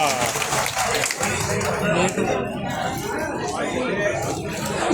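A crowd claps steadily at an outdoor public gathering, dense and loud throughout with a few chuckles and murmurs mixed in.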